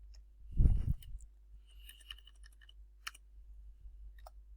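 Number keys pressed on a calculator keypad, with one louder thump and then a few faint, sparse clicks and taps in a quiet room.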